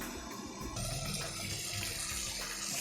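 A covered pot of brinjal gravy bubbles at a steady boil, giving a continuous soft hiss and burble, faint and close with no talk.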